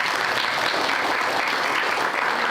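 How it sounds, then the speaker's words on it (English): Audience applause closes a summer school panel discussion, a dense, steady wash of clapping throughout with no voices over it. "Please give applause."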